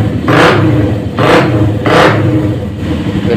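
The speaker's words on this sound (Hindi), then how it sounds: "बाइक को स्टार्ट करके चेक करेंगे।" Hi Speed Infinity motorcycle engine running after an accelerator cable fix, revved three times in quick succession, each rise a loud close throttle blip over a steady idle rumble.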